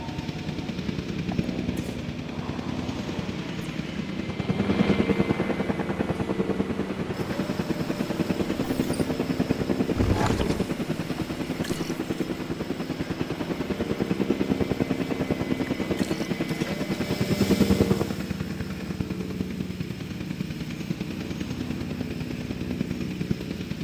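Helicopter lifting off in the video game Jurassic World Evolution 2, a steady whirring rotor drone that swells louder twice, with brief mechanical accents over the continuous beat.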